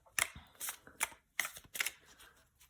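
Tarot cards are shuffled by hand in a handful of sharp, separate riffles about half a second apart, close and crisp in a quiet room.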